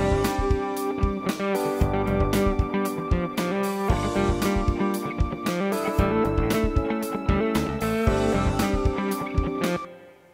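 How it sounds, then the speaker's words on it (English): A song played back through GarageBand's large hall reverb, a dense full mix of steady chords and regular beats with a spacious wash, running continuously at moderate level before trailing off at the end. "So if I wanted to sound like this was being performed in a large hall, I could select that."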